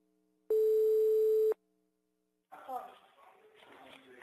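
A single steady telephone ringback tone sounds for about a second while a prank call is placed, then silence follows and a voice starts talking.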